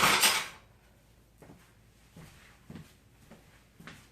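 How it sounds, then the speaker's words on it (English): Metal kitchen utensils clatter loudly as a big spatula is pulled out, followed by a few softer taps and knocks near a mixing bowl of artichoke dip. "let me get a big spatula here."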